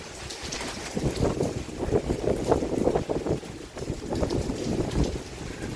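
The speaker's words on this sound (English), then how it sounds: "coming through here is a good little wind tunnel" Hurricane Idalia wind gusting through an RV area, roaring and buffeting the microphone in uneven surges, loud and continuous with no talk.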